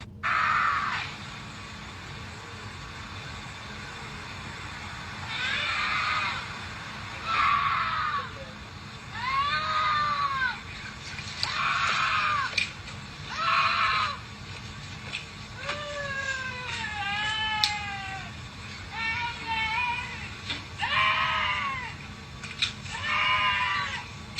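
A woman screams and cries out while walking down a street, a series of repeated, wavering wails rising and falling in short bursts over steady background noise, heard from a recorded clip.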